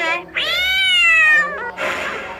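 A cat gives a long, drawn-out meow close to the microphone, preceded by a short mew and followed by a breathy hiss-like sound.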